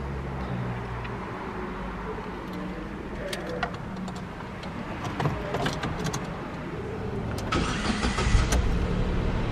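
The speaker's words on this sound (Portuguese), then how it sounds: "Eu vou ligar ele aqui para vocês, meus amigos." Keys jangle, then a 2019 Ford Ka SE 1.0 12V flex-fuel hatchback with manual gearbox cranks and starts close by, settling into a steady idle with a brief louder burst near the end.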